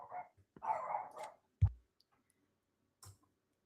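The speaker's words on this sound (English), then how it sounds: "my dog is going nuts" A pet dog barking at home, giving a short run of muffled barks followed by two sharper single barks spaced well apart, fairly close and with no one speaking.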